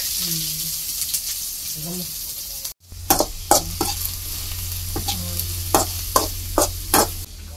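Onion tipped into hot oil with cumin and coriander hisses into a loud, steady sizzle, with sharp scraping stirs and clatter recurring every second or so in a village kitchen in Nepal's Terai; a voice is heard briefly before the onion goes in.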